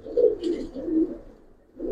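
Pigeons of the Giribaz and colouring breeds coo in a low, throaty rolling rhythm, with three or four soft phrases running close together and a short pause before another coo begins.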